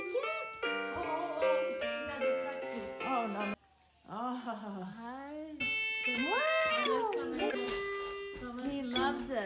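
A JoyJoz musical play mat toy plays tuneful electronic cat meows and melodic tones at close range, while adults and a baby talk over it.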